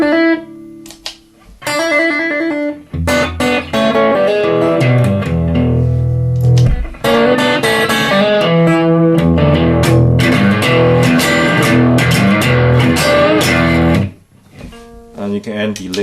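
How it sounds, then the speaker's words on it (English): An electric guitar runs through a multi-effects pedal such as a Tech 21 Fly Rig 5, SansAmp TRI-AC or GT2 with a hot boost setting, playing loud distorted chords and riffs with brief pauses between phrases. "this is a hot, means it boosts the signal a little bit higher, so you can hear a little bit more distortion"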